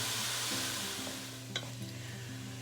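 Ground venison fries in a pan with a close, steady sizzle, and a utensil stirs and scrapes through it, with one sharp clack partway through.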